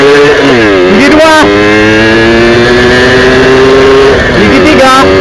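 Modified Mitsubishi V80 engine revving hard through the gears on a top speed run, a loud close roar climbing in pitch with sharp drops at each shift, a voice talking over it.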